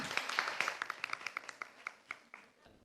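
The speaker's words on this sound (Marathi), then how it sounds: "अगदी बरोबर टाळ्या" A small studio audience on a radio quiz show gives a correct answer a round of light, scattered clapping, about a dozen distinct claps at a moderate distance that thin out toward the end.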